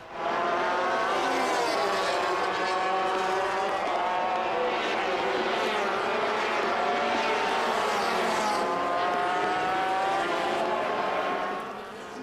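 A high-revving racing motorcycle engine roars loudly and steadily, pitch sweeping up and down through gear changes, with faint French commentary voices mixed underneath.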